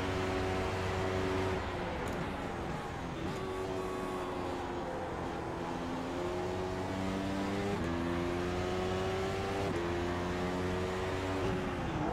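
A race car engine drones steadily at Monza in a sim racing game, its pitch rising and dropping through gear changes with a harmonic whine, loud and continuous with no pauses.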